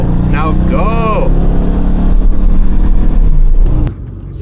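A rear-engine 1960s Martaré GT sports car drives along with a steady, loud engine drone and a brief rising whine near the start; a voice is heard over it.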